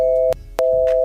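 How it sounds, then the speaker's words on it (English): A telephone tone plays two steady beeps separated by a short gap, loud and clear with no talk. "She frantically picks up her phone and begins to dial NJ."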